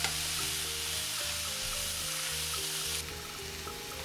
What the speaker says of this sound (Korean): 참치를 넣어서 함께 볶아줍니다.